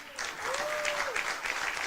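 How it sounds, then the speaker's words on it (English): An audience at a school district State of the Schools performance claps together, a dense, moderately loud wash of applause with a brief voice or tone rising beneath it partway through. "So give yourself a round of applause."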